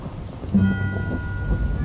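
Steady rain falls with low rumbling thunder rolling beneath it, a continuous stormy wash with one heavier rumble near the middle, heard alone.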